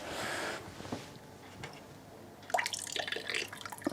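Beer draining back through a homebrew hose into the keg after the valve is closed, from a NEIPA brew: soft dripping and trickling with faint liquid gurgles, a brief rush at the start and scattered splashy drips later, close and fairly quiet.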